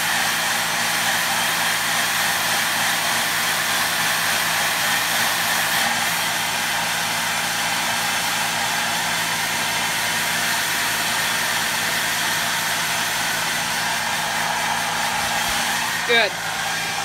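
A hair dryer runs steadily at close range, drying paint on an old swimbait, a loud continuous whooshing hum that holds for the whole stretch with only a brief bump near the end.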